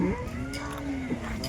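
A single cow gives one drawn-out moo at a livestock market, moderately loud and fairly close, with faint background noise.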